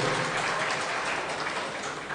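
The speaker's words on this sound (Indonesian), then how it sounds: "Sekali lagi kita berikan tepuk tangan sebagai ucapan terima kasih dan rasa syukur" Dense, continuous applause from an audience at a Nahdlatul Ulama gathering, clapping steadily at an even loudness throughout.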